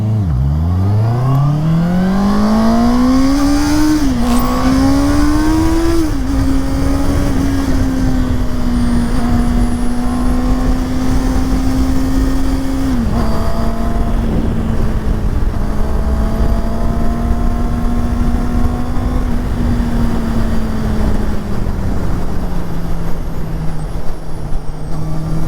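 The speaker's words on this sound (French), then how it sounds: "Allez, on se fait un petit départ arrêté." A Honda CB650R motorcycle pulls away from a standing start, its engine revving hard and climbing through several gear changes, the pitch dropping at each shift before settling into a steady loud drone at speed.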